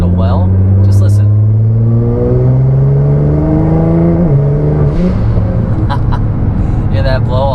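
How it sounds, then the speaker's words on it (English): 2018 Nissan GT-R engine heard from inside while driving, loud and continuous, climbing in pitch through the gears with sharp turbo blow-off valve hisses between shifts; a voice speaks over it. "Oh, that blow off is like intoxicating."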